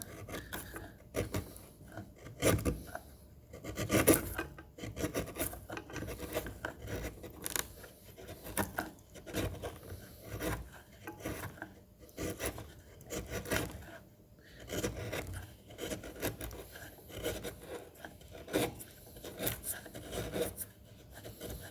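Hand rasp taking waste wood off an oil stone case, a woodworking class project; quiet repeated rough scraping strokes in an uneven rhythm, continuing steadily throughout.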